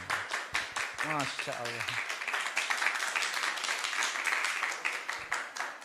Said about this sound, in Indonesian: Tepuk tangan untuk calon ketiga.